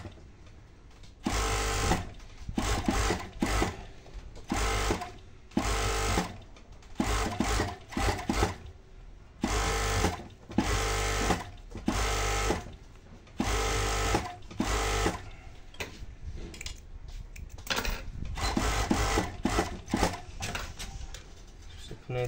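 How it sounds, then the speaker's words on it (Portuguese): A sewing machine fitted with a seam-folding attachment stitches a seam on a bikini bottom, running in fast, loud bursts of rapid needle chatter separated by short pauses, close up and with no talking over it. "Olha o tanto que ele é rápido pra você rebater a costura aí."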